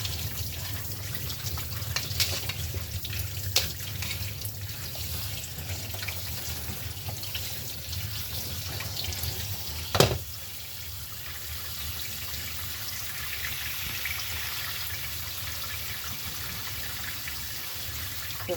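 Running tap water splashes steadily over plums being washed for homemade dried fruit, a continuous close gush with one sharp knock of fruit or a bowl partway through.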